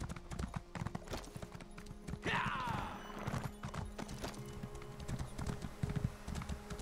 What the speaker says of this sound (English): God, I'm gonna have to get on my horse.